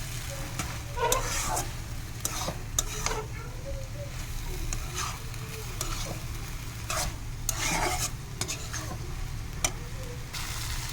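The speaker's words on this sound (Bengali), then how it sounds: "এখন এই নুডলস আর সবজিগুলো একসাথে নাড়িয়ে নিচ্ছে।" Noodles and vegetables are stirred together in a hot pan, with a steady sizzle under repeated scraping and shuffling strokes of the utensil, fairly close and continuous.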